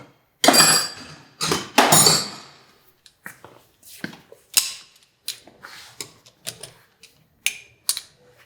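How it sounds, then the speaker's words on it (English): Metallic ratcheting and clinking from a T30 Torx driver working four bolts loose on the stator cover of a 2018 BMW S1000RR motorcycle engine, two long loud bursts followed by a string of shorter, quieter clicks and taps, close up with no talk. "Now we need to remove those 4 bolts. I've got a T30"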